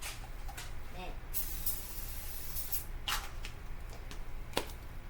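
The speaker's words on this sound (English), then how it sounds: "Take your non-stick spray stuff." Non-stick cooking spray hisses onto a waffle maker in a few short bursts, close and fairly quiet over a steady background hiss.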